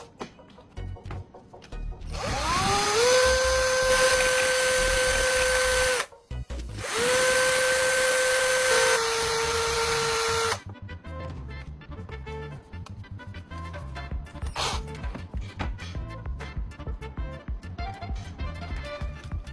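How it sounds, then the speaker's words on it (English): A loud power tool sanding and grinding a graphite rod to a point whines steadily for several seconds, pauses briefly, then runs again before cutting off, followed by quieter scraping and clicking. "A bit of sanding and careful grinding will give a sharp,"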